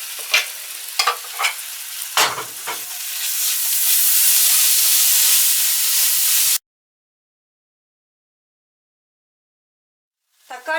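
Onion, masala and tomato sautéing in a pan for kothu parotta, a loud steady sizzle with a few stirring scrapes that cuts off into silence, then a brief burst of frying at the end.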